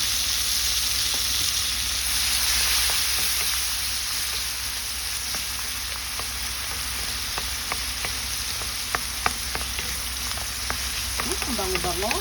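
Chili and tomato sizzle steadily in hot oil while being sautéed for green beans, with a constant frying hiss and occasional small pops and clicks of stirring toward the end.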